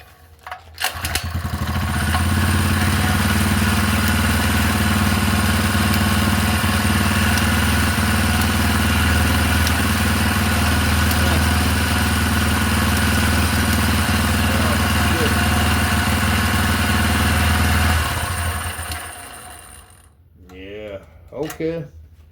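Small four-stroke engine starting up, then running at a loud, steady idle-like drone for about fifteen seconds before cutting off, followed by brief talking.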